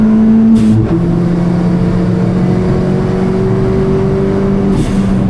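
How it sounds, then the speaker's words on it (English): Race car running flat out on a track, its engine holding a loud, sustained drone at close range with a brief shift in pitch near the start, then a change of tone near the end as it comes off the power. "Okay, this is flat out, over the crest, on the brakes, middle of the track"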